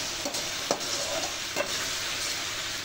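Broccoli, carrot and potato sauté in a noisy frying pan, giving a loud, continuous sizzle broken by a few scraping stirs, heard close with no talking.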